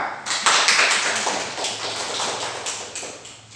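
Fourth-grade students in a classroom clap their hands together, a brisk flurry of close, dry claps that starts loud and gradually thins out over a few seconds.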